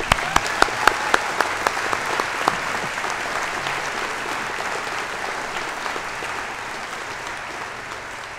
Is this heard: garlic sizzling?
no